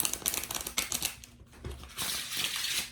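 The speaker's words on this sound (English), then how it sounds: "I wish you could see the shuffling take place." Close, brisk riffling and flicking of a new deck of textured tarot-style cards, a rapid papery patter in short bursts, then a longer, denser ruffle toward the end.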